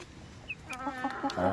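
Home-hatched country chickens and naked neck chickens give a brief run of close, soft clucks. A few short calls rise in quick succession near the end.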